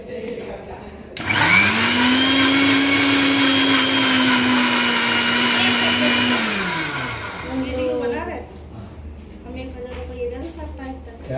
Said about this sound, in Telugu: ఇప్పుడు మిక్సీ పెట్టుకొని మిక్సీ ఆన్ చేసుకోవాలి